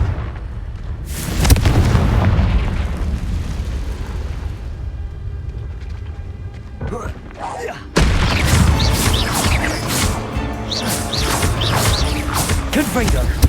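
A Confringo blasting spell explodes in Hogwarts Legacy, a heavy booming detonation that rolls into crashing debris, then a second loud burst follows, with a voice shouting the spell aloud.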